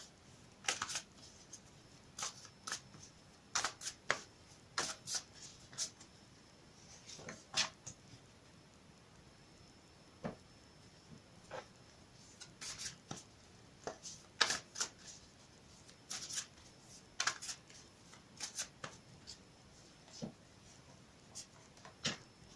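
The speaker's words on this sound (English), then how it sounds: "I'll shuffle it again quickly for you on camera." Cards are shuffled in quick, crisp riffles and taps, soft and close, repeating irregularly without any talking.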